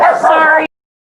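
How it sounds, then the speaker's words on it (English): Dogs barking and yipping indoors at home, loud and close in a single short burst of about half a second that then cuts to silence. "Sorry, dogs, the hazard of working at home."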